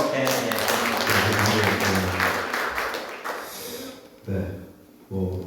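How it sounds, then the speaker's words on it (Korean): Congregation applause at a Sunday church service, a wash of clapping through the first few seconds that thins out, followed by someone speaking briefly. "박수"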